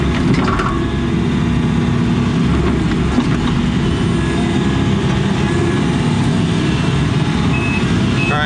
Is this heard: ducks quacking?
no